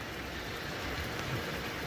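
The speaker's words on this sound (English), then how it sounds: "just started to get another band of rain coming through" Steady broadband hiss of a band of rain falling over a boat at anchor in a cove during hurricane season, constant and fairly loud throughout, with no voices.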